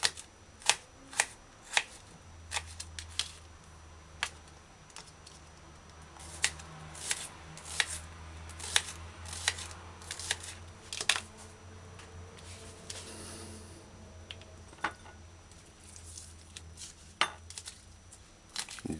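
Sharp knife dicing onions on a cutting board, a steady series of crisp chopping taps, close and fairly quiet, with irregular pauses and no talking.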